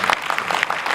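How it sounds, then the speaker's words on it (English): A dense wash of audience applause at a travel company's tour club launch and award ceremony, with many hands clapping together in a loud, continuous crowd roar. "A big round of applause"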